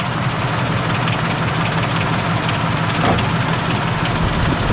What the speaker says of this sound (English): These engines are very smooth running, very well engineered.